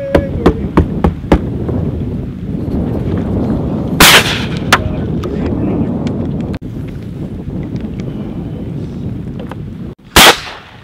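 Shotgun blasts ring out while hunting clapper rails in a marsh, two loud, sharp reports several seconds apart over steady wind noise and background rumble, with people talking nearby.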